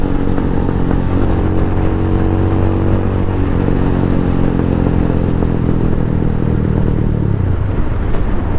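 Venom X22R 250 motorcycle, a 223cc street bike, revs loudly close by, its engine note holding steady, then rising and dropping across the run with a continuous mechanical rumble.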